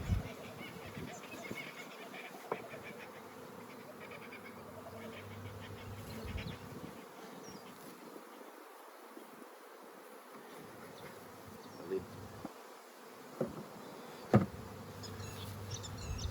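Honey bees drone around a Flow Hive 2 brood box as a nucleus colony is settled in, a soft continuous buzz with occasional closer passes and faint clicks and knocks of hive parts, with no talking.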